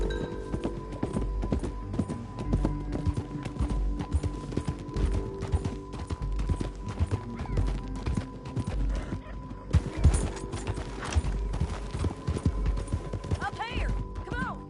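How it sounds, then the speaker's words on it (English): Horse hooves clatter in a busy, irregular rhythm while riding in the Red Dead Redemption 2 video game, mixed with game sounds and background music. "Get back on your horse, John."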